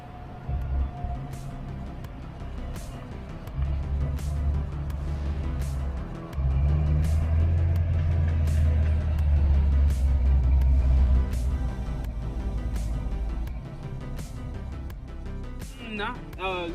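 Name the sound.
5.0 Fox body coupe driving down the road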